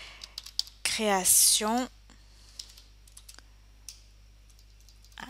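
A project name is typed on a computer keyboard in quick, crisp clicking keystrokes, near and clear, with a short burst of speech partway through.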